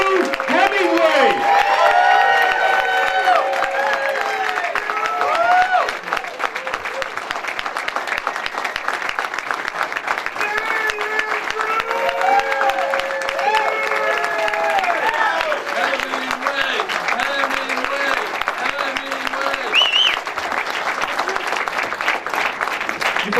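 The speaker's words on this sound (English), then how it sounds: "a big round of applause for Andrew Hemingway" A crowd applauds a political candidate for New Hampshire governor at a campaign event, with steady sustained clapping throughout and voices and whistle-like tones mixed into the noise.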